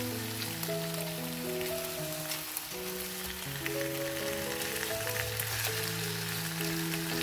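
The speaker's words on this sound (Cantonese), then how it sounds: "2分鐘之後翻面，再煎另一邊2分鐘。" Honey char siu pork pan-fries in a flat pan, giving a steady, soft sizzle with light crackles throughout while background music plays.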